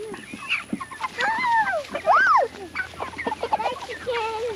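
Chickens cluck and squawk at close range in an uneven, busy run of calls on a farm, with voices speaking among them.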